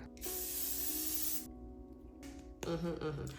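A long, steady hiss of makeup setting spray being sprayed, loud and close, cutting off abruptly before a second, shorter burst begins near the end.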